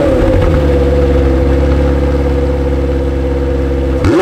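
A McLaren 720S supercar engine runs loud and close with a deep, steady drone, holding a constant rev before a sharp change right at the end.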